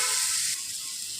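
Boiled masoor lentils with prepared spices tipped into hot oil in a kadai, giving a bright, steady sizzle that is loud at first and eases slightly after half a second, with no talk.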